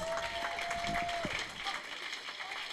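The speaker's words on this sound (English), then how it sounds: "give them a big round of applause" Audience applause at a regional ballroom dance professional competition during Wisconsin Oktoberfest, honoring dance studios and teachers; steady, dense clapping fills the clip with a sustained tone briefly over it before fading slightly.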